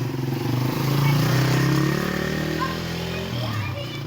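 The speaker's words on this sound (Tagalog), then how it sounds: "Oh, wait lang, may motor ah." A motorcycle passes nearby on a street, its engine drone rising and then fading, with children's voices and chatter over it.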